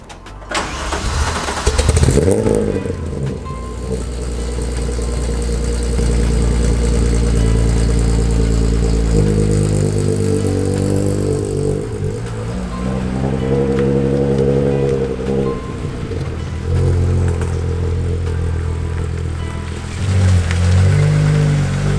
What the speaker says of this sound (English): I'm gonna take the car down the end and do the work down there.